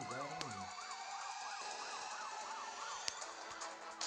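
In the video game Smashy Road, a wailing ambulance siren rises and falls repeatedly in a steady cycle, heard continuously at moderate distance with a couple of sharp clicks, no talking.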